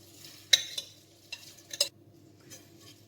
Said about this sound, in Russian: Я беру обычную стеклянную форму и сюда высыпаю промытый рис